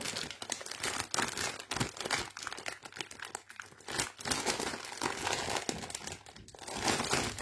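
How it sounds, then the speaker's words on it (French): Close, steady crinkling and snipping as scissors cut a magazine, a dense crackly rustle that continues throughout without any talking. "je vais mettre un autre coup de ciseau"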